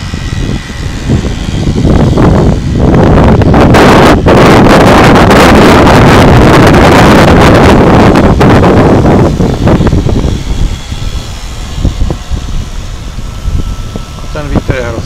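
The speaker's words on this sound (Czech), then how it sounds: "A ten vítr je hrozný." Strong gusting wind roars across the microphone outdoors beside water where an RC gunboat model runs, the buffeting loud and dense for most of the stretch, then easing near the end as a voice talks.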